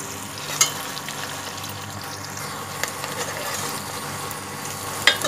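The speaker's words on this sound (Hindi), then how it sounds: "साबुत मसाले डालने के बाद हमने इसमें प्याज भी डाल दिया। और इसको थोड़ा सा गुलाबी होने देंगे।" Onions sizzling in oil with whole spices for bhuna mutton keema, a loud, dense and continuous frying hiss heard close up, with a few sharp clicks from stirring and no speech.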